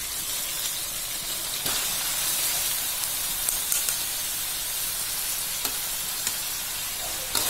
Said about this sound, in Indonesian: Aduk hingga bumbu dan banana hops atau jantung pisangnya ini tercampur e, merata.